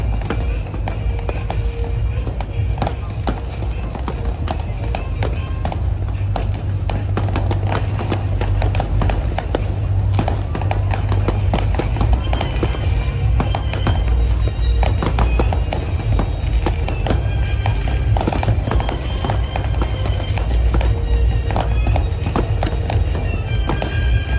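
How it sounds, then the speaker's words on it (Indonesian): Continuous crackling and popping of New Year fireworks in Palembang, dense and sustained with sharp bursts throughout, over a roaring background and crowd noise. "Kembang api"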